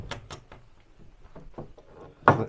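Storage cabinet doors in a Bruges palace hotel room are handled and pushed shut. Several light knocks and clicks come close together, then a louder thud at the end as the door closes, nearby and without talk.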